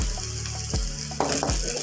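Chopped green chillies with garlic paste fry in hot oil in a pan for chicken curry, a steady close sizzle broken by several sharp scrapes and knocks of a stirring spoon.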